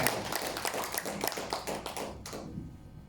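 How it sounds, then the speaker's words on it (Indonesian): Audience clapping at a daytime talk show event in Bandung, a steady burst of many hands that fades out toward the end. "Tepuk tangan untuk Bandung yang sehat dan luar biasa."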